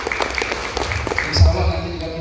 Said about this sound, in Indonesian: Tepuk tangan untuk beliau ya.